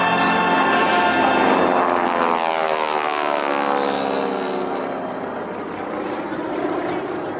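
Propeller-driven warbird airplane taxiing past at an airshow ramp, its piston engine and propeller drone loud and close, the pitch sweeping as it rolls by and then easing slightly as it moves away.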